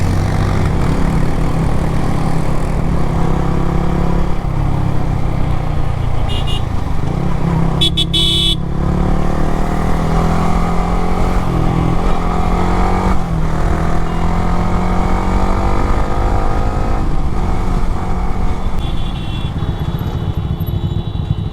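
A steady motorcycle engine drones throughout a ride, with wind and road noise and a brief horn-like burst partway through.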